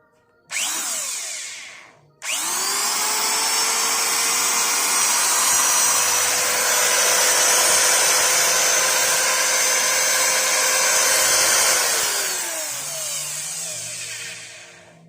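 A Nissho 1900 wood planer, running without its drive belt, gives a brief whir, then starts again and runs at a steady high whine for about ten seconds before winding down, loud and close with no talk.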